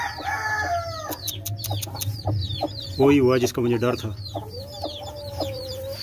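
Hens cluck and a rooster crows nearby in a farmyard chicken pen, brisk repeated clucks and squawks with a louder burst midway, while a person speaks over them.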